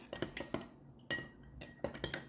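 Vietnamese iced coffee stirred with ice in a glass, a series of light clinks and rattles from spoon and ice in short bursts with brief pauses, close and quiet.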